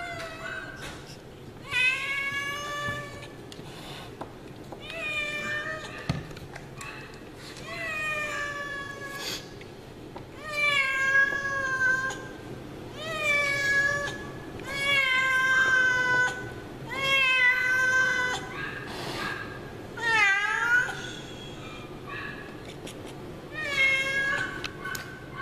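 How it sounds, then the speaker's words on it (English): A cat meows again and again during a cephalic venipuncture blood draw, giving loud, drawn-out, wavering cries at a steady pace, close by and otherwise nearly alone. "Very happy cat."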